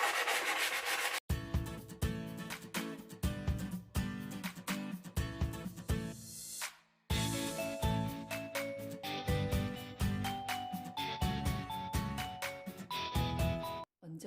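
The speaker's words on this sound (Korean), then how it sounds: "사포로 거친 부분을 다듬어 보겠습니다." Repeated rough rubbing strokes of sandpaper on a solid wood shelf, close and steady, with a brief pause midway before the scraping resumes.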